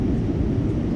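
Steady, loud airplane cabin drone during a long-haul flight, a dense low rumble of engine and airflow that holds unbroken with no talk.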